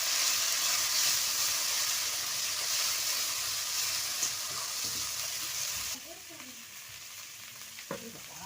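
Spice paste with chili paste, turmeric and salt fries in a pan for a fish curry with aubergine and potato, making a bright, steady sizzle that drops sharply partway through, with a few soft stirring clinks and no talk.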